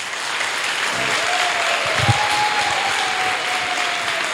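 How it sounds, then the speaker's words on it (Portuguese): A church congregation applauds after a baptism, a thick, steady wash of clapping from many hands that holds evenly throughout, with a faint voice sounding over it. "Vamos aplaudi-los?"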